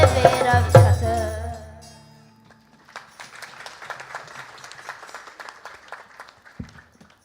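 At a birthday celebration, a sung devotional piece ends on a sustained note, then after a brief pause an audience breaks into light, scattered clapping that continues at a moderate distance.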